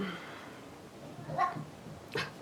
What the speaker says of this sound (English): My cat's losing her mind because the kids are asleep.